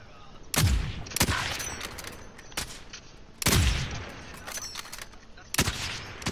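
Gunfire in Call of Duty: Modern Warfare, several loud, close bursts of automatic weapon fire with sharp cracks, repeating irregularly through the stretch with short pauses between volleys.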